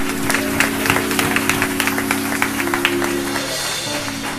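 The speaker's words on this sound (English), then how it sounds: "Come on and give them another hand clap of praise even now." A church congregation claps along during a Christmas program, a steady patter of many hands over sustained organ-like tones and a low hum.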